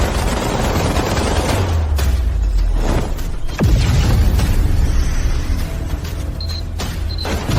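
Loud, close gunfire and explosions crash in dense bursts, with heavy low booms, rattling volleys and mechanical clatter running throughout the scene.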